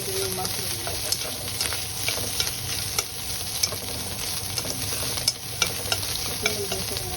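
Mushrooms sizzle and crackle in a hot pan while being stirred for a white-sauce spaghetti, a steady loud frying hiss with scattered scraping clicks of the spoon.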